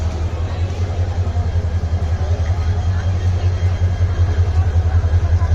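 A locomotive engine idles with a deep, steady throbbing rumble while being coupled to the Meghna Express at a busy station, loud and close throughout.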